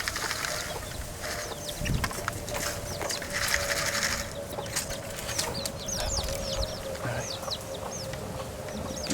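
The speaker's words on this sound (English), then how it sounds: "Beautiful, beautiful chickens." Chickens and little chicks in a farm coop cluck and peep steadily, with high chirps scattered throughout over a constant low background hum.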